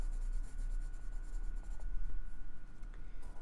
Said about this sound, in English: now I'm going to go in with the details and do the coloured pencils